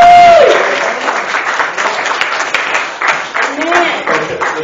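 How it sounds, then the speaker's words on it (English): Church congregation at Olive Grove Missionary Baptist Church applauding the music department, a loud burst of clapping that tapers into steady, uneven applause with brief voices over it. "I want you to give your music department a round of applause."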